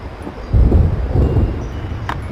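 Thunder rumbles through a lightning storm in the horror game It Moves, a low rolling boom swelling and fading against steady wind-like noise, with a faint higher crackle near the end.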